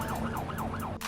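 Ambulance siren wailing steadily in a rising and falling pattern, moderately close and continuous, over a dense street-noise background.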